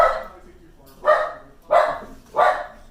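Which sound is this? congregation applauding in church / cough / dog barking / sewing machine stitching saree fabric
dog barking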